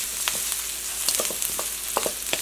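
Onions sautéing in a pan for a quick lunch with plantain roast, a moderate steady sizzle dotted with small pops and faint stirring clicks, close and unaccompanied by speech.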